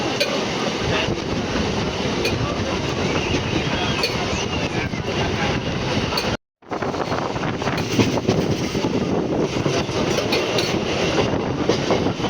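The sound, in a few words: passenger train running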